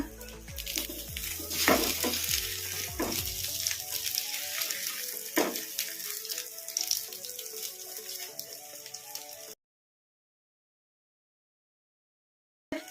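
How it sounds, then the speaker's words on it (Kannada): Egg omelette bonda frying in hot oil, a steady bubbling sizzle with occasional stirring clatter that runs for about nine seconds before cutting to silence. "ಇನ್ನು ಒಂದು ಎರಡು ನಿಮಿಷ ಫ್ರೈ ಮಾಡಿಕೊಂಡು ಪ್ಲೇಟಿಗೆ ತಕ್ಕೊಂಬಿಡೋಣ"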